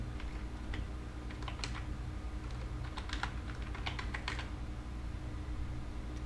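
Quick bursts of keystrokes on a computer keyboard, irregular clusters of light clicks over a low background hum, typed at moderate distance with no talking.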